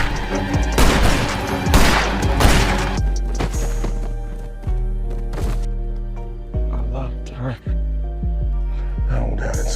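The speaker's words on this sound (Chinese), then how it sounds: "随着枪声响起" Gunfire in the Western TV drama 1883 as cowboys clash with bandits: several sharp, loud shots burst out in quick succession over a dense music score, with further single cracks scattered through the rest of the scene.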